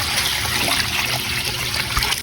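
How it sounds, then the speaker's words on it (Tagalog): Water poured steadily into a pressure cooker holding beef shank with garlic, onion, ginger, peppercorns and bay leaf, a loud close continuous splashing trickle throughout. "maglagay na tayo ng tubig"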